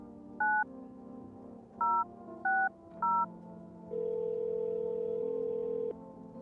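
Touch-tone keypad in a video game dialing the neighbor: four short separate beeps, then a longer steady tone, clean and close over a soft hum.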